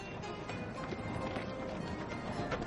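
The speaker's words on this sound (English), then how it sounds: "The Arabian horse is one of the oldest breeds on earth." Hooves of an Arabian horse clip-clop steadily in a continuous rhythm through a dense ambient background, moderately close, with no clear speech.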